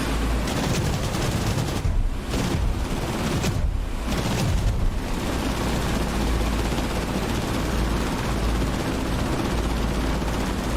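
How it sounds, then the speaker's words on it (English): Continuous gunfire from the War Thunder video game, stuck firing nonstop, forms a dense, loud, unbroken barrage with brief dips, and no talking over it. "I'm hearing gunfire."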